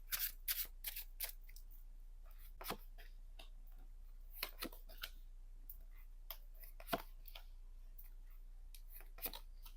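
Tarot cards are shuffled in a quiet room, giving soft scattered snaps and flicks, a quick cluster at first and then sparse single clicks.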